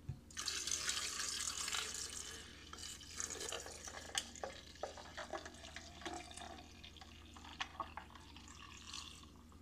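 Juice pours steadily with a splashy, bubbling trickle, close up, followed by scattered drips and small splashes as the flow tapers off.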